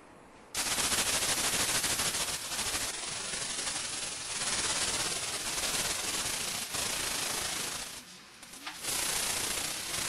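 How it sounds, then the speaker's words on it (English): Sanding the hood of a 1959 Chevy pickup with 150-grit paper, a close, continuous rasping scrub with rhythmic strokes for most of ten seconds, briefly easing near the end. "so you sand down with your 150, you can see your high and low spots"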